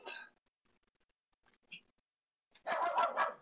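A dog barks in a room during a gaming session: a short bark at the start, a few faint sounds, then a loud, dense burst of barking at the end.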